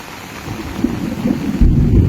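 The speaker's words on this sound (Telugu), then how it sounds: "ఉరుములు మెరుపులు" Thunder rumbles low and heavy during a monsoon rainstorm over the hills and waterfalls at Penchalakona, the deep roll swelling louder toward the end over a steady wash of rain.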